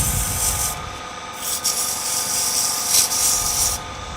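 Hand sanding of a woodworking piece in a shop: a continuous abrasive rubbing hiss with a few stroke-like surges, steady and close, no voices.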